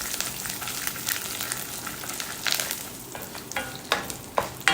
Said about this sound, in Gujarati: હવે એની અંદર લીમડો ઉમેરી દેવાનો છે પંદરથી વીસ પાન લીમડો ઉમેરી લઈશું